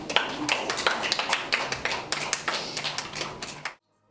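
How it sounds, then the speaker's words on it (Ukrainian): A small group claps steadily for a few seconds, sharp close hand claps in a quick rhythm that stop abruptly. "під оплески всіх присутніх"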